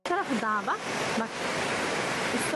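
A waterfall pours from beneath the rocks in a steady broadband rush, loud and continuous throughout, with a brief voice heard over it at the start.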